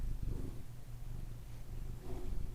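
Pet cat Tony purring, a low steady rumble close by that keeps going with slight swells, no talking over it.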